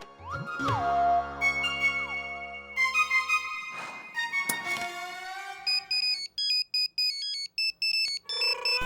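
Electronic ringing tones and beeps of an outgoing phone call play loudly, shifting into a steady pulsing ring pattern of repeated short tones, with no voices.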